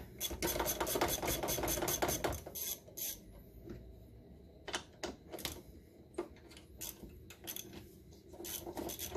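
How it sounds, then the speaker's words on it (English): Ratcheting of a 10 mm deep socket loosening throttle body bolts on a Dodge Neon, a fast run of close, clicking ratchet strokes followed by sparser, quieter clicks and taps. "these two 10 mils, which just got a little 10 mil deep socket here. And pop these off real quick"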